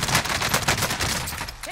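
Rapid gunfire crackles in a steady burst in Black Ops Cold War zombies mode, dense and continuous with no talk.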